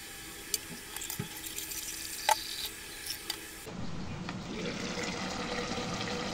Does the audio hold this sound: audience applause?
no